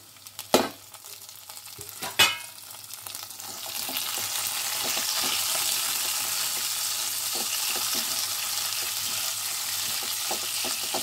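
Onion, tomato, ginger and garlic drop into hot oil in a pan with two sharp clatters, then a steady loud sizzle of frying takes over, with occasional light stirring taps.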